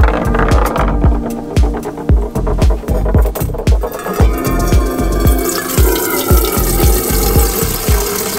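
Water runs in a truck bed to make coffee, with a small pump pulsing in a steady rhythm close by, its rapid clicking beats over a running trickle and no speech.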